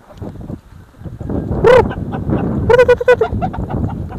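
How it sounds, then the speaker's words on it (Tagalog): Chickens, gamecocks for cockfighting, cluck and squawk nearby in a few sharp bursts, with people talking faintly in the background. "meron din itong mga manok kung gusto nyo makipagpasabong dito"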